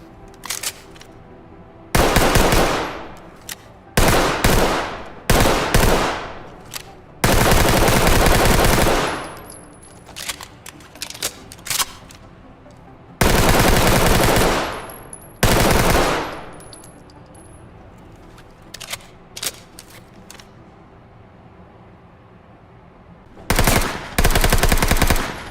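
Bursts of full-auto fire from a UMP9 9mm submachine gun in the video game Ready or Not, loud and close, several separate strings of varying length broken by short pauses, with faint clatter between them.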